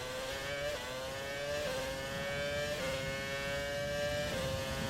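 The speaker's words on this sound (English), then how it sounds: "You just hear the difference in engine, and you see the difference in speed as well" A Vettel-era Formula 1 car in F1 2020 holds a steady, high-pitched engine whine, with brief dips at each gear shift as it keeps pulling at speed, loud and continuous.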